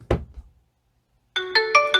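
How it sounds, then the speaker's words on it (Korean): A phone ringtone set off remotely from a Mi Watch Lite find-phone app, heard after a short thud and a stretch of silence as a clear, loud, tonal melody with several rhythmic pulses. "이런 식으로 휴대폰 벨을 울려서 내 휴대폰이 어디 있는지"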